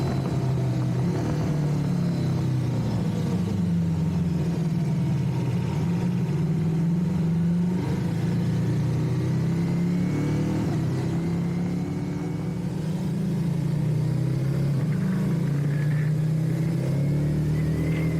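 A 2021 Ducati Multistrada V4 S Sport engine rumbling loudly and close, its pitch rising and falling as it accelerates through the gears, with no voices.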